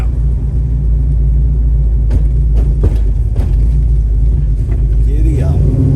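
1978 Chevrolet Nova with a 10-bolt Posi rear end driving hard through the gears, a loud steady engine rumble from inside the car, with short whoops and voices cutting in over it.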